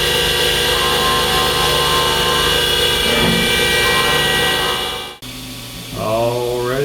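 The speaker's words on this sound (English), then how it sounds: "Now we'll go ahead and carve away all that stuff on the outside that we don't need." A CNC machine drives a bowl end mill through silicone injection mold material, giving a loud continuous whine with tonal harmonics that cuts out briefly, then resumes with a shifting pitch.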